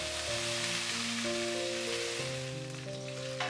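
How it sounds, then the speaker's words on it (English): Cumin seeds, curry leaves and dried red chillies sizzle in hot oil after mustard seeds, a steady bright crackling hiss that fills the pan evenly, with a faint clatter near the end. "To the splattered mustard seeds goes in half teaspoon cumin seeds, then few curry leaves, then goes 4 to 5 dried red chillies."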